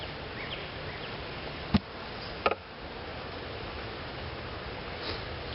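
Honeybees hum faintly and steadily around an opened hive during an inspection as a deep brood box is added, with a couple of sharp clicks from handled equipment.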